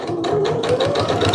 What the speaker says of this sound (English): Now we can go sew a 1/4 inch seam allowance.